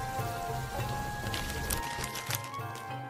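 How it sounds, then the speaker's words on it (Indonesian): Heavy rain falls steadily on a surface, a dense hiss of drops with scattered louder splashes and patters, close and continuous throughout. "Malam itu, hujan deras mengguyur medan Badar."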